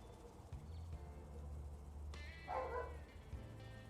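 A dog barks in a short burst off in the background during outdoor brisket preparation, the barking faint and distant over low steady hum.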